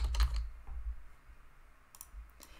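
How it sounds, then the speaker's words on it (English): A few keys are tapped on a computer keyboard, heard as quiet, close clicks in short bursts at the start and near the end, with quiet pauses between them and no speech. "I'm going to type rank"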